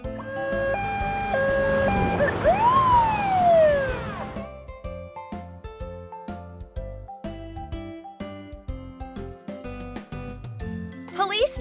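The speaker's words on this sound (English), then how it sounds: "Police SUV" A police SUV siren sweeps up and down in a loud, close wail over mixed tones, then gives way to a bouncy electronic melody of short, punchy notes.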